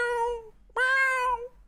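A person imitates a cat with two drawn-out meows separated by a brief gap.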